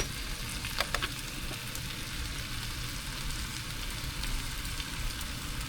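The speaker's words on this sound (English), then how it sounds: "So now I'm gonna add the peppers to the spinach." Peppers and spinach sizzle together in a hot pan with a steady, dense crackle that holds evenly throughout. A few soft clicks sound near the start.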